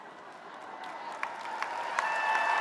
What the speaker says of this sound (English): Please make those graduates feel welcome with cheers and applause.